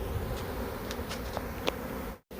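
A honeybee swarm in Uxbridge, Massachusetts hums as a close, steady buzz, with a few brief louder passes of bees near the microphone and a short dropout near the end.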